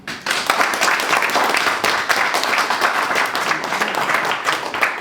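A comedy-show audience breaks into loud, dense applause that sets in sharply and holds steady, a close wall of clapping hands with no voices over it.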